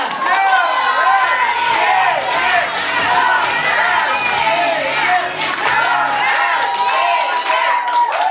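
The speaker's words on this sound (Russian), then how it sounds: "Аплодисменты!" Guests at a birthday party clap and cheer loudly and continuously, with many voices shouting and calling out together over the applause.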